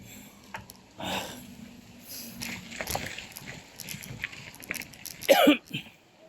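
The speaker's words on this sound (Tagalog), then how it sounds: "Kasama pa mga ubo ko." A person coughs several times in short bursts during a bike ride, with heavier breathing and shuffling noises between them, fairly close and no speech.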